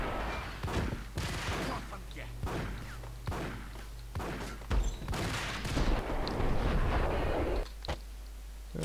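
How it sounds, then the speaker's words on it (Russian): Rapid bursts of gunfire from the video game Max Payne, with repeated sharp shots and thuds over a dense, loud background of combat noise throughout. "Уходи нахрен от выстрела."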